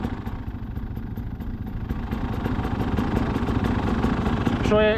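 A small engine idles steadily after its idle screw is adjusted, a close, continuous low rumble with an even pulsing beat that rises slightly toward the end.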